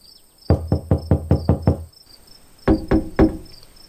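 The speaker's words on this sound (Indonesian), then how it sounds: "Dia terkaget saat pintu toilet diketuk berulang." Knocking on a toilet door, two quick bursts of sharp, loud knocks: a rapid run of about seven, a pause, then three more, close and alone.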